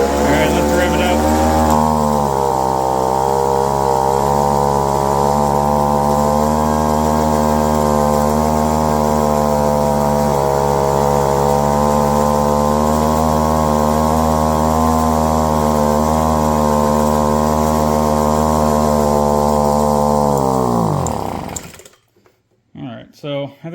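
An old, long-unused leaf blower's two-stroke engine, fitted with a non-float carburetor, revs up and holds a loud, buzzing high-pitched whine for about twenty seconds, then dies away abruptly.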